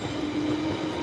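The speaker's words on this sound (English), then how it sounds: "sounds a bit weird, that train" A train rumbling past near Moor Park, Northwood on the London Underground line, a steady close rolling rumble with a faint sustained whine and wheel clatter, no voices.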